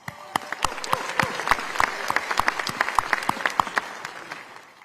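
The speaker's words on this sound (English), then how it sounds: "Let's give them a big round of applause." Audience applause at a county government address, a full room clapping steadily with sharp individual claps standing out, holding strong throughout and easing slightly at the end.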